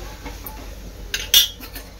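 A moringa drumstick paratha is flipped in a pan, giving a couple of brief metallic clinks and scrapes from the spatula over quiet background noise, with no talking.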